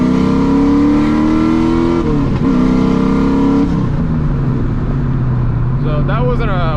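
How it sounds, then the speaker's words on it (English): A modified 1997 Camaro Z28 with its exhaust cutout open roars loudly as it accelerates through a short pull, the engine note climbing steadily, then easing off before a brief rise near the end. "I'll also do a small pull with the cutout open now,"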